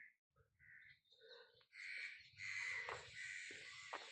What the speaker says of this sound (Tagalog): Ang dami uwak dito.